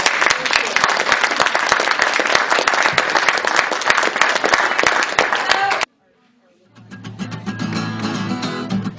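Applause from the audience at an MLK Day community meeting, dense clapping for about six seconds that cuts off abruptly, followed by quieter, lower room sound.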